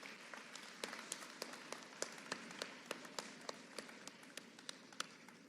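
Graduation audience applause, a steady wash of clapping from a crowd with sharp individual claps standing out at a fairly regular rhythm, moderately distant and continuous.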